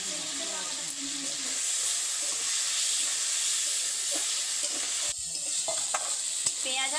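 Onion paste and chopped tomato frying in oil, a continuous hissing sizzle with scattered scrapes and clicks of a stirring spoon against the pan, close and steady throughout.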